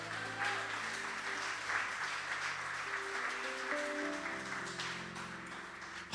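A church congregation applauds loudly and steadily, a dense wash of clapping over sustained organ or keyboard chords, with no break from start to finish.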